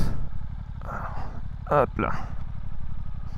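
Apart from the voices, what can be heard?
Suzuki GSX-S 8S motorcycle idling, shifted into neutral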